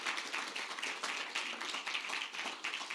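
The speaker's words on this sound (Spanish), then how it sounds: "Vamos, dale un aplauso al Señor." A church congregation applauds during a bilingual sermon, soft, distant-sounding clapping with a loosely pulsing, even texture throughout.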